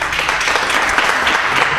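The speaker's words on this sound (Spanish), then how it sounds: "Un aplauso." A TV studio audience breaks into loud, close, dense applause, a brief burst of rapid clapping with no pause.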